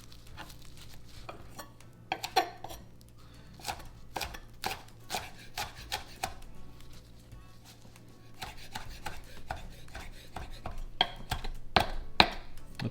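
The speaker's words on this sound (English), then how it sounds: "And just give it a really rough chop." A knife roughly chops fresh spearmint on a cutting board in quick, irregular bursts of sharp taps, close and clear, with no talking.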